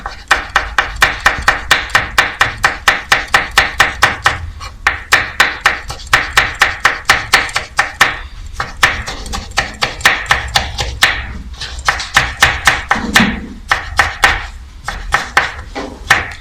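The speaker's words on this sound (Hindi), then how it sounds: "सबसे पहले हम हरी मिर्च जो है वो चॉप करते हैं।" A knife chops green chili on a board in a home kitchen, a rapid run of sharp, close taps in fast bursts with brief pauses between them.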